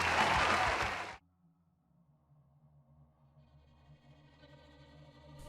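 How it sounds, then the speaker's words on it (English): A round of applause from a crowd claps loudly and densely for about a second, then stops abruptly, leaving a faint low musical drone. "Everybody give a round of applause to Benny Hill here."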